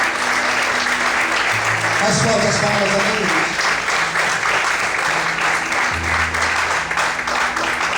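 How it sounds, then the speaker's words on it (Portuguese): A church congregation applauds to exalt the Lord during a sermon, loud continuous clapping filling the space while a male preacher's voice speaks over it. "Será que você pode aplaudir e exaltar o Senhor por isso?"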